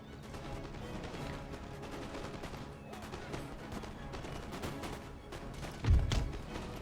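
Musket volley gunfire from the video game Imperial Destroyer, a dense rolling crackle of many shots under a noisy battle mix, with one louder, heavier burst near the end.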